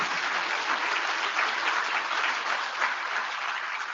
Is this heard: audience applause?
yes